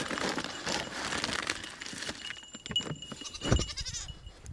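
Goats bleat in short, uneven calls close by, mixed with rustling and jangling handling noises.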